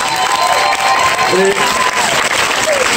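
An audience applauds chef Philippe Etchebest at a conference at Les Etoiles de Mougins, with dense, steady clapping throughout and a voice faintly heard over it.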